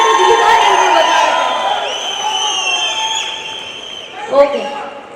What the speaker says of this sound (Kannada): ಜೋರಾಗಿ ಒಂದಿಷ್ಟು ಚಪ್ಪಾಳೆ ಹಾಗೂ ಕಿರಿಚ್ಬಿಟ್ರೆ ಕನ್ನಡಿಗರು ಇದ್ದಾರೆ ಅಂತ ಗೊತ್ತಾಗುತ್ತೆ